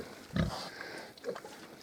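A young Mangalica pig gives a short low grunt up close, followed by faint snuffling and a softer second grunt against quiet outdoor background.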